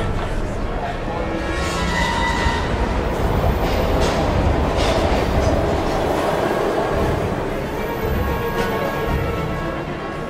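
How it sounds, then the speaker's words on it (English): A train rumbles and clatters steadily in the video game Heavy Rain, with low rolling noise, faint rhythmic wheel clicks and a few brief metallic squeals, mixed with ambient game sound throughout. "We've got to get on that train, Ethan."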